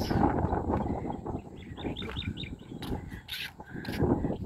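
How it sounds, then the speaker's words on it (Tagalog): Small birds chirp at Laguna Bay in a morning outdoor setting, a quick series of light tweets rising over steady wind and ambient noise, with a few sharper calls near the end. "Ang cute ang huni ng ibon."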